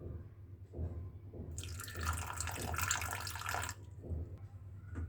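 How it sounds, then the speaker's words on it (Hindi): Water is poured from a small vessel into two tablespoons of cornflour in a home kitchen while making potato egg cutlets, giving a brief close splash and trickle over low background hum, with a few soft clinks around it. "2 टेबलस्पून कॉर्नफ्लोर ले लें और इसमें डाल दें थोड़ा पानी"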